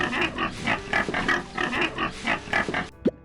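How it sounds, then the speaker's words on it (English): A pig grunts and oinks in a quick, steady series of rough snorts, close and fairly loud, ending with a short higher squeal. "pig,"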